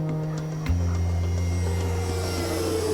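A HAOHAN Firefly V2 VTOL model aircraft flies with a steady electric motor whine whose pitch drops sharply when the throttle is lowered, then holds a lower sustained hum, near and without speech.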